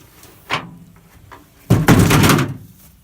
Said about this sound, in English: Maybe I'll move that door.